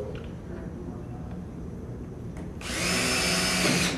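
A power drill bores holes in the Stamoid marine fabric band of a boat top, starting with a loud, steady whine after a stretch of quieter room noise.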